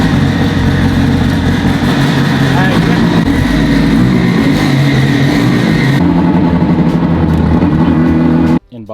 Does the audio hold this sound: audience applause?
no